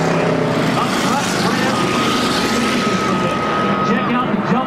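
Bomber-class race cars roar around an oval track, a dense, steady engine drone under excited commentary with crowd and track noise throughout.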